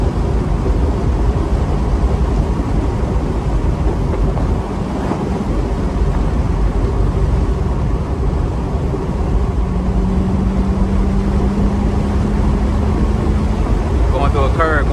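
A small motorcycle at speed on the Blue Ridge Parkway produces a steady engine drone heavily buried in constant wind roar, with a slight pitch shift midway and a brief bird-like chirp near the end.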